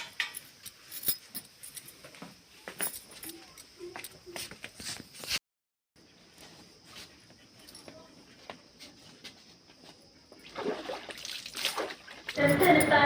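Plain water splashes in quick irregular bursts while a face is washed without soap, mixed with shuffling and a short dropout, then a louder, denser spell of splashing near the end.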